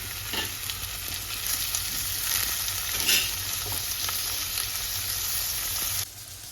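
Onion and tomato fry in a pan for a karela chutney, a steady close sizzle with a soft crackle that runs unbroken and then drops off sharply near the end.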